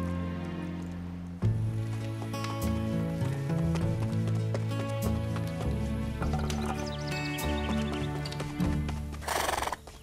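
Horses in a French Lucky Luke cartoon neigh and whinny among clip-clopping hooves, set against busy orchestral music with sharp hits and a splashy burst near the end.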